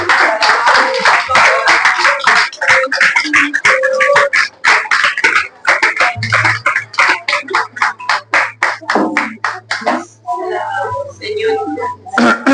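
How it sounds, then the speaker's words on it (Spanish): A church congregation claps along in a fast, steady rhythm with loud, dense hand claps close by, and voices call out over the clapping. "Vamos a ponerlo de pie y darle un aplauso al Señor"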